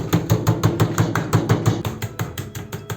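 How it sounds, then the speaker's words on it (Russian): Chicken is pounded lightly with a meat mallet on a kitchen board, the dull thuds falling in a steady, fairly quick rhythm of about fifteen close blows with no talk. "берем, значит, молоточек и отбиваем легонечко"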